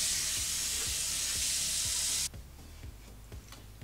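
Water running and splashing loudly while a hardened face mask is rinsed off, a steady broadband hiss that cuts off abruptly partway, leaving quieter drips and soft taps.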